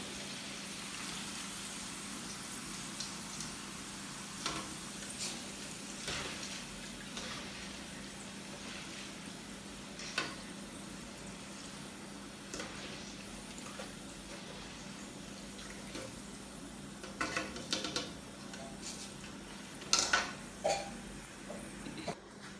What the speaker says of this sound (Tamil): நான் இப்போ கடலைப்பருப்பெல்லாம் பொரிச்சு எடுத்துட்டேன்